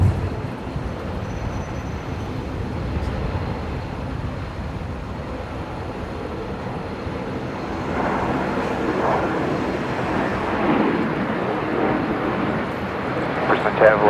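Qantas airliner arriving from Melbourne touches down at Brisbane Airport, a broad steady rumble of engine and rolling noise that swells louder midway and holds, with radio and commentary voices over it.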